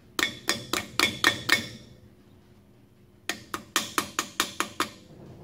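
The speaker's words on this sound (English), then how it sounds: "Grab the hammer." A hammer strikes metal while brakes are worked on at a car wheel: a quick run of about six sharp, ringing blows, a pause of over a second, then about seven more, all close and loud.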